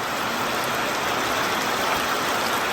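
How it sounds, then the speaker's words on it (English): Heavy rain pours down in a dense, steady hiss that doesn't let up, loud and close all around. "right now we're getting a pretty good downpour"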